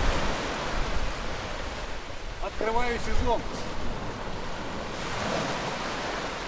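Black Sea surf at a beach in Alushta rushes steadily in the background, a broad continuous wash with wind noise on the microphone, while someone speaks briefly over it midway.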